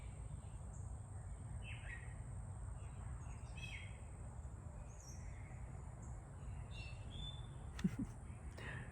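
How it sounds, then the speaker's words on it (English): Birdsong outdoors on a morning walk: several small birds chirp and trill at a moderate distance over a steady low background hum, with brief sharper calls standing out near the end. "I mean, listen to the birds right now."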